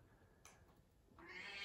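A domestic cat named Blue meows faintly indoors, a couple of soft short calls with a rising tonal cry near the end, quiet and close.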